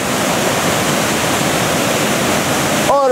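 Waterfall in a canyon roaring loudly and steadily with a full rushing wash, ending with a brief voiced sound at the very end.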